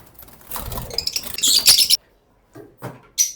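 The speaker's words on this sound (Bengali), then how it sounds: "আমার ফেভারিট হয়েছে এই ফিশার গুলো, green fisher, পারবুলু fisher, blue fisher" Fischer's lovebirds in an aviary, a busy scatter of high chirps and rustling wing flutters close by, rising to a dense burst before falling silent, then a few isolated sharp calls.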